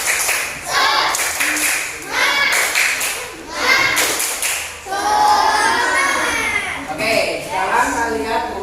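Schoolchildren in an Indonesian classroom perform a rhythmic group cheer clap, bursts of patterned clapping in several rounds mixed with children's voices and chatter throughout.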